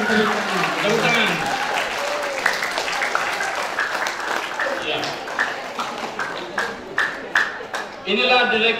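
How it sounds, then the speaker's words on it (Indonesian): An audience applauds as national-level judges are introduced at a BKSN 2023 church psalm music and poetry event, with a voice speaking over the early part before scattered clapping comes through more clearly toward the end. "Tepuk tangan."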